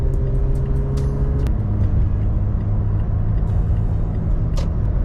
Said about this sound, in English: I can hit the gas and I feel like my truck will just go.